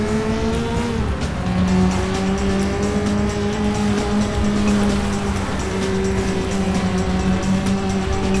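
Loud, continuous car engine in the demolition-derby racing game FlatOut, with sustained tire squeal as the car drifts through corners, steady engine tones holding throughout with no talk.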